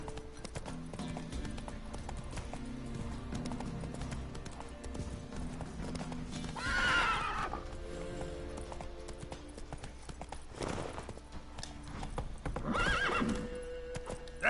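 Geralt's horse Roach in the Witcher 3 video game, steady hoofbeats at a gallop with two loud neighs rising over the running rhythm, close and continuous.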